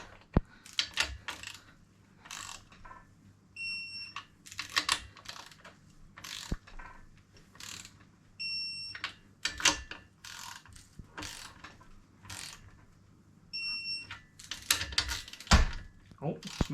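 A digital torque wrench beeps in short high triple tones at intervals while an engine is assembled, mixed with ratcheting clicks, metal clinks and tool handling; someone talks in places.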